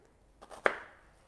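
A knife chops an onion finely on a board: two soft taps, then one sharp louder cut that rings out briefly, close and alone.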